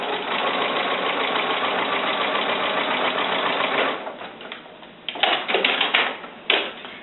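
A sewing machine stitches with black thread across taped fabric binding in a steady, close mechanical whir for about four seconds, then stops, followed by a few short bursts of handling clatter and snips.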